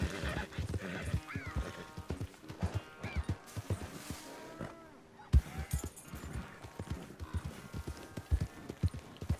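Horse hooves pound in a fast galloping rhythm in the video game Red Dead Redemption 2, loud and close, with occasional whinnies over the running beat.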